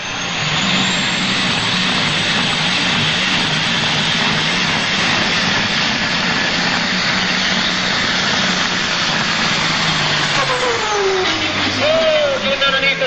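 The Radical Red, a turbocharged Super Stock drag racing car at a 1997 Ionia, Michigan event, roars loudly and steadily as its engine fires up and runs, with an announcer talking over the noise.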